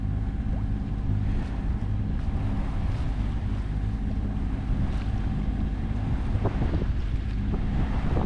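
A sailboat under way on open water toward Campbell River, with steady hull-and-wave wash and heavy wind buffeting the microphone, a constant rushing roar and no talk.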